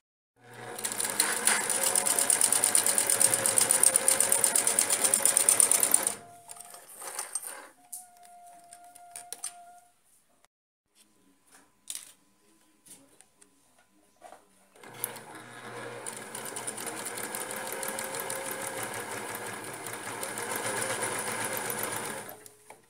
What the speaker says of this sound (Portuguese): vamos colocar aqui na máquina para fazer daí uma costurinha reta aqui agora